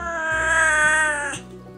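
A strong-willed, mostly indoor house cat answers with one long, loud, close meow that holds steady and then drops off, leaving a faint tonal hum behind.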